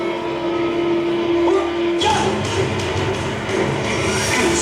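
A train rumbles loudly, with a steady tone and then a sudden surge of rushing, clattering noise as it pulls in close.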